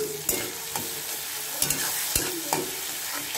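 Onions, tomato and green chillies frying in a pan for biryani, with a steady close sizzle broken by several sharp stirring scrapes and clacks of a spoon against the pan.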